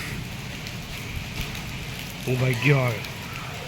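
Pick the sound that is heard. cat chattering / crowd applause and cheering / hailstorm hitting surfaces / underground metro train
hailstorm hitting surfaces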